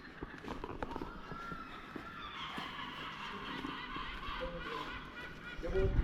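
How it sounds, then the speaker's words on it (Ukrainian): Seagulls calling by the sea in the early morning: honking, squawking cries in a faint, steady chorus over open outdoor ambience, with a louder burst near the end. "Чайки кричать."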